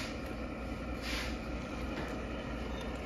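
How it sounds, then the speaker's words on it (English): A Lionel Legacy model train engine runs on a test track with bumpers at both ends, making a steady, continuous mechanical hum and rumble. "So I put this Lionel Legacy train engine on here."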